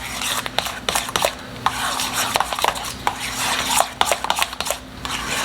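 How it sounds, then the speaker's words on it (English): Mayonnaise and Dijon mustard stirred together in a bowl, a busy run of quick scraping clicks and soft wet smears of a utensil against the bowl, close and steady, with no talking. "Here is the wet ingredients, so mayo and Dijon mustard, basically, and I'm just gonna mix that up"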